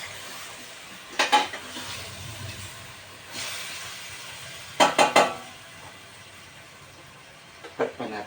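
Chicken tinola stirred in a pot, a soft continuous simmering hiss broken by a few bursts of ladle clatter and scraping against the pot, close by, with no voices.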